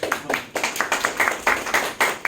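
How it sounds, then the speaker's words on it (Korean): A small group at an office gathering applauds a researcher's promotion with quick, uneven close claps, fairly loud and continuous for a couple of seconds. "축하해 박수"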